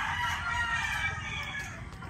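A young rooster crows in one continuous, strained call lasting about two seconds, fairly close and steady, with no talk over it.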